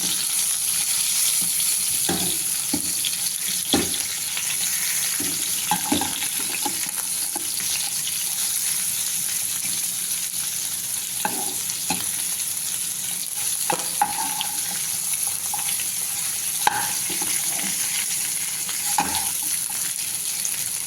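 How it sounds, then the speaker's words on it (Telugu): Lamb frying in a pan until browned gives a steady, close oil sizzle throughout, with scattered clinks and scrapes of stirring. "బ్రౌన్ కలర్ వచ్చేదాకా ఫ్రై అవ్వాలి ఫ్రెండ్స్"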